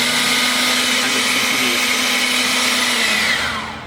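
An Ego 56V battery-powered leaf blower runs at full speed with a loud, steady, close-up whirring roar that holds evenly before it begins to wind down at the end.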